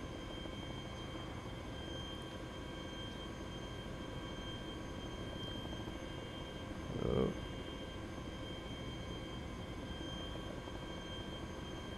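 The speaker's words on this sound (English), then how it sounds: "Trying to land this chopper here without causing any damage." A helicopter in the Arma 2 DayZ Epoch mod hovers while being brought down to land, giving a constant, faint rotor and turbine drone with a brief word spoken partway through.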